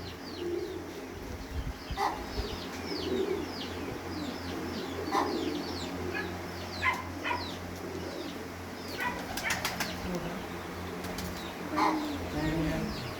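White pigeons cooing among breeder and flying birds, soft repeated coos and chirps at moderate distance, mixed with people talking nearby.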